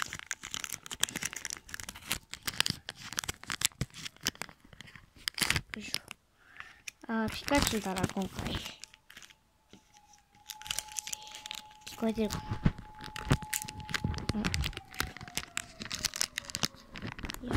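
Crinkly plastic packets of Pokémon bread decoration stickers are torn and rustled open up close, with sharp crackles and rips coming in bursts while someone talks over them and a steady tone hums in the background.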